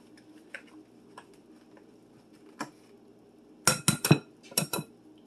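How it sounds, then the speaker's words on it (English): Two eggs are cracked into a bowl for homemade banana muffins, with a few faint taps, then a sharp cluster of close clinks and knocks against the bowl near the end, with no talk. "and crack them into the bowl."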